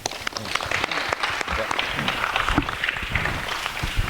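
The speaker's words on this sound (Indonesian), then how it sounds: "Aplaus dulu, semangat." Audience applause at a university student audience with an Islamic organization's central board, sustained and fairly loud clapping throughout with voices mixed in.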